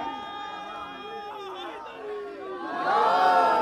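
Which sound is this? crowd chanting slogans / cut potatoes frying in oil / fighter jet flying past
crowd chanting slogans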